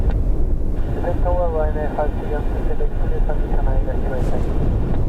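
An aircraft arrives at Dublin Airport on a windy day. A continuous broad roar mixes with wind buffeting the microphone, and a voice talks over it throughout.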